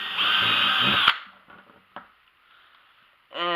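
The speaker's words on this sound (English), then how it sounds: "So I'm going to drill a hole right here" Power drill with a large bore bit boring a hole through wood for a countersink bolt on a gold-mining drywasher, a loud steady whine for about a second, then quieter spin-down clatter and a brief restart at the end.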